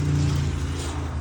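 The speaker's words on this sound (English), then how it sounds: "That BMW sounds nasty." A BMW passing by on a road, a loud steady engine rumble with a strong low drone close to the listener, filling the short moment without pause.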